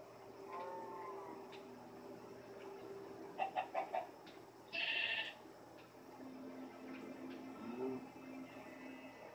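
Minecraft chickens and farm animals cluck and bleat in short game-sound bursts, a quick run of four clicks and a brief bright squawk standing out over steady background ambience.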